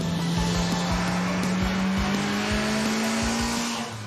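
A Citroën BX GTI's 1.9-litre 16-valve, 160-horsepower engine revs hard on a race track and holds a high, snarling pitch that climbs slightly, loud and close, with no voices.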